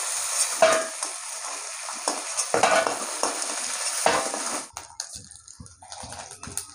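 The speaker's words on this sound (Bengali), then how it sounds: "ক্যাংড়াগুলো ভালো করে তেলে ভেজে নিয়েছি," Crabs fry in hot oil in a kadai with loud, steady sizzling and stirring scrapes, then the sizzle drops away into quieter clinks and splashes.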